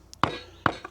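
A hammer peens the ring edge of a timber framing chisel resting blade-down on hardwood, giving two sharp, close metallic strikes about half a second apart, followed by a couple of lighter taps.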